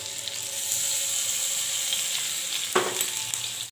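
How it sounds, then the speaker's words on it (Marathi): Green chillies frying in hot oil in a home kitchen for peanut chutney, a steady close sizzle throughout with a brief stirring clatter near the end. "हिरवी मिरची चांगली हे आपल्याला करायची तळून घ्यायची चांगली तेलामध्ये"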